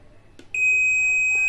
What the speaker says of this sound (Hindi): इस रजिस्टर का अगला पिन आईसी से बीप करना चाहिए